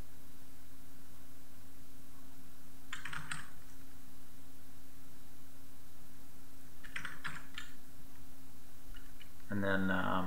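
Two short bursts of computer keyboard key presses, soft and close, over a steady electrical hum, followed by the start of a voice at the end.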